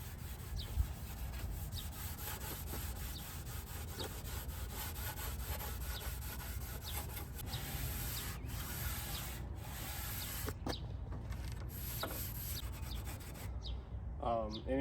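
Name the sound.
scuffing a car dash panel with Scotch-Brite pad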